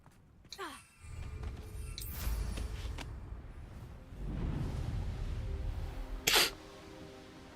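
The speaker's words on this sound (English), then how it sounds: "I'm gonna sneeze." A person sneezes once, a sharp nasal burst near the start, followed by a breathy exhale and background noise, with another short burst later in the clip.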